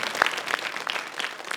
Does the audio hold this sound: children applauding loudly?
yes